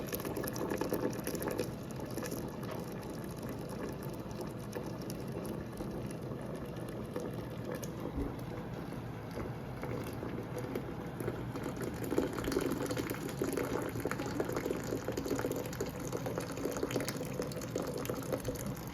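Peach juice runs from a steam juicer in a steady, bubbling, boiling gush that continues evenly for the whole stretch, close and unbroken, with no talk.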